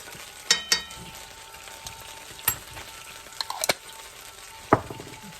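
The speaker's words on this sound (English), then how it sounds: "a glob of Thai chili paste. Get that in there, kind of rub it around. Almost like you're seasoning the pan." A glob of Thai chili paste sizzles faintly as it is rubbed around a hot pan for spicy gravy, a quiet frying hiss broken by a few sharp utensil clicks and scrapes.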